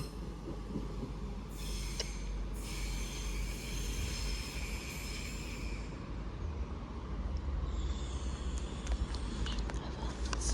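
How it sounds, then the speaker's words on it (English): An Avanti West Coast train rolls into Warrington Bank Quay station with a steady low rumble, wheels squealing high above it partway through, a continuous mid-distance passage. "the train now arriving into platform 3 is the 12:15 Avanti West Coast service to Glasgow Central"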